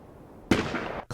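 A single sharp gunshot bursts out after a quiet moment, loud and close, followed by a second blast right at the end.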